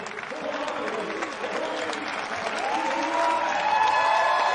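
Cricket stadium crowd applauds steadily during a women's T20 match between India and Australia, sustained clapping and cheering that swells slightly toward the end, with faint commentary underneath.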